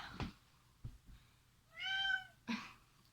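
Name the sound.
cat meowing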